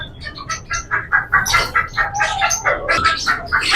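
Yellow tail fancy birds, a confirmed breeding pair in a bird shop, give rapid repeated chirping calls in quick clustered bursts, fairly loud and close, with no voices.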